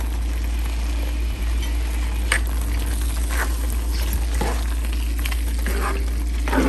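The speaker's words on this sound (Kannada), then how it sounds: "ಸೊ ನಿಧಾನಕ್ಕೆ ತಿರುಗಿಸ್ಕೊಳ್ಳೋಣ, ಅಂದರೆ ಅದೆಲ್ಲ ಬಿಟ್ಕೊಳುತ್ತೆ" Drumstick (moringa) pieces fry and are stirred in a masala in a pan, giving a continuous close sizzle with occasional scraping strokes and no voices.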